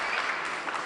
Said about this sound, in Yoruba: Put your hands together for the contestants.